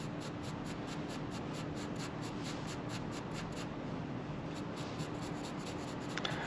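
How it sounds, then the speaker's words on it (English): Pencil strokes shade a gray scale on paper, a steady, close scratching with rapid repeated back-and-forth strokes, soft and continuous with no talking. "So I'm keeping my pencil strokes really close together."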